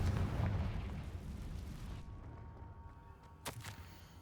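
A Confringo blast spell in Hogwarts Legacy bursts into a heavy, rumbling explosion that fades over two seconds, followed by a couple of sharp smaller pops.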